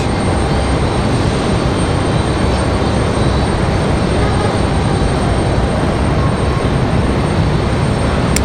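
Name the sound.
Southwest airliner jet passing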